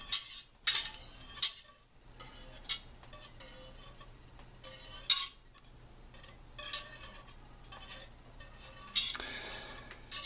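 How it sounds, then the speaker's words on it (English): A whisk slowly stirring milk in a pot for probiotic yogurt, making faint, soft scrapes and scattered light metallic clinks at an irregular, unhurried pace against a quiet background. "I'm just going to start stirring very slowly, just with the whisk"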